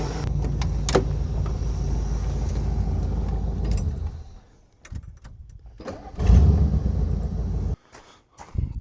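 A warm car engine idles, then is shut off and quickly cranked and restarted for a drag racing entry, a loud low rumble that cuts out, followed by bursts of cranking and firing with clicks between.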